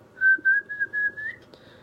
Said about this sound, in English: I actually can do 3 different types of whistle